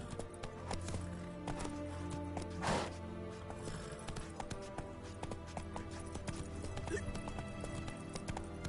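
Horse hooves clip-clop steadily in The Witcher video game, a continuous mid-level rhythmic trotting with a brief louder snort or whinny near the middle and faint background ambience.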